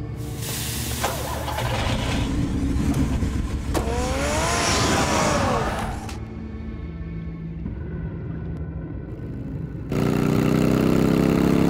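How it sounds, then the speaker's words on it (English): Car engine in Batman: The Telltale Series, a steady mid-pitched running drone that swells and surges midway, drops back, then rises to a louder, denser roar near the end, with no talk. "Get the car ready, Alfred"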